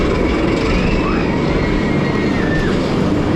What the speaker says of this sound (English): We'll make our way up the lift hill.